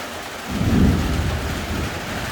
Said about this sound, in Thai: มีฟ้าร้องนี่แหละน่ากลัวตรงที่ฟ้าร้องนี่แหละ